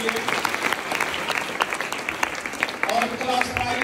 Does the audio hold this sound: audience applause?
yes